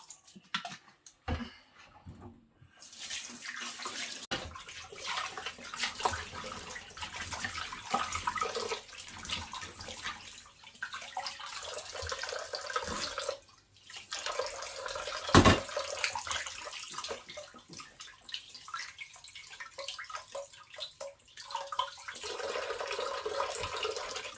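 Water runs and splashes as fish are washed in vinegar water, an uneven sloshing with clatters and intermittent bursts, fairly close and with no speech.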